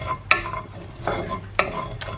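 Garlic being stirred in a frying pan, a few distinct scraping strokes of a utensil against the pan at a steady pace over a soft background sizzle, close and fairly quiet.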